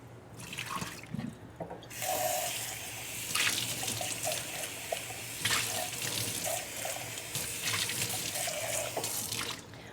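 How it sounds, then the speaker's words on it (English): Tap water runs steadily into a sink while Alocasia plant leaves are rinsed, a continuous close splashing wash with brief interruptions and shifts as the leaves move under the stream, no voices. "I was just giving the leaves a little rinse off"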